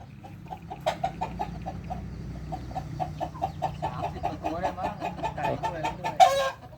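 Chickens, including fighting cocks, cluck in a rapid rhythmic series at a farm at dusk, with a rooster crowing near the end, fairly close and clear over low background noise.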